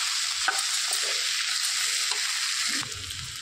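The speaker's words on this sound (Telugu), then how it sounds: "మొత్తం కలిపేసుకోవాలండి" A spoon stirs coriander and cumin powder into a sizzling mixed vegetable curry, steady frying hiss with intermittent scraping and clinking strokes against the pan, close and without speech.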